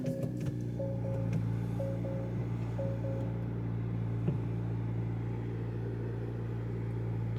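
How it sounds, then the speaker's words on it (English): A 2023 Acura Integra A-Spec with a manual gearbox starts and settles into a steady, low, humming idle, while a few short electronic chimes beep at the start. "So let's start it up,"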